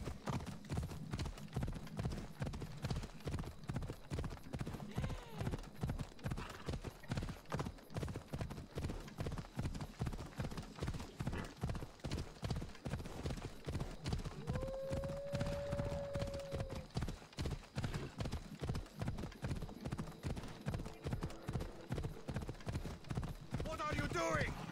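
A horse gallops in a video game with a quick, steady clip-clop of hooves that holds an even rhythm throughout, while a player talks over it and a brief tonal game sound rises midway.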